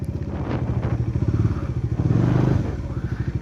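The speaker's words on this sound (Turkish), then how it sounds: "Motoruma yeterince devri veriyorum." A motorcycle engine runs at low revs during riding practice, a close, steady rhythmic putter that swells briefly as the rider feathers the clutch while nearly stopped.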